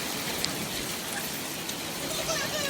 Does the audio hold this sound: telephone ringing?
no